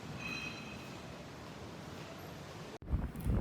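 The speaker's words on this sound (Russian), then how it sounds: "ветрено безумно, но вы зато сможете оценить, насколько хорошо они отрабатывают в режиме ветра" Strong outdoor wind buffets the microphone in a steady broadband roar, with a brief dropout near the end followed by louder gusts; no one speaks.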